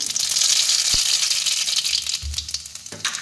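Radhuni seeds dropped into hot oil give a steady, bright, crackling sizzle, close by, with a soft knock and some stirring clatter in the background; no one talks.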